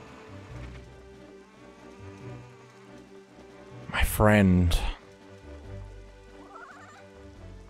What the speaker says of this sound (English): Ah, rain, my friend has returned.